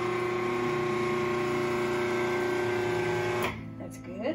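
Food processor whirring steadily as it blends flour, sugar and a pinch of salt, a loud continuous motor hum that cuts off abruptly near the end, followed by faint clatter.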